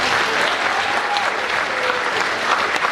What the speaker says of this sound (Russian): хотелось бы, чтобы зал подарил очень громкие аплодисменты организаторам